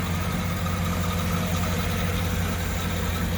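A 2008 Cadillac Escalade ESV Platinum with a 6.2 liter V8 on stock exhaust idles steadily, a close, low, even engine rumble with no other sounds.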